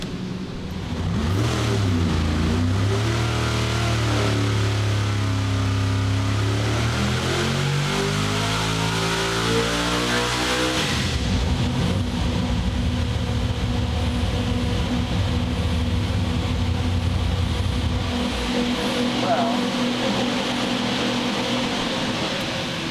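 A supercharged small block Chevy engine running 17 pounds of boost revs up and down, its loud harmonic roar rising and falling in pitch before settling into a rough, uneven idle, close and alone.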